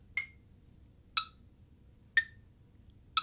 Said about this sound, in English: It's clicking out the time for me